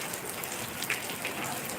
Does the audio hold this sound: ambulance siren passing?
no